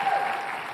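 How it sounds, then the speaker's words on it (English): Audience applause at a forum, a brief steady burst of many hands clapping, mid-distance and fairly loud, with no talk over it. "You should applaud."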